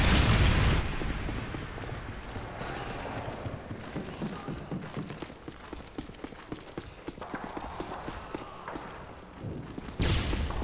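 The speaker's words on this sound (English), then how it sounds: "Friendly Predator missile inbound." A Predator missile explosion in Call of Duty Modern Warfare 2 multiplayer opens with a loud boom, then rumbling battle noise with sharp popping impacts, and a second burst near the end.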